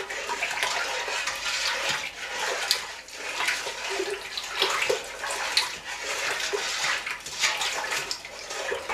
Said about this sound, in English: just mix it round until it's fully dissolved